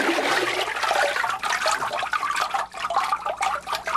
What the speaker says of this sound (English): Before I form a sheet, I have to charge the vat by stirring the fibers in the water.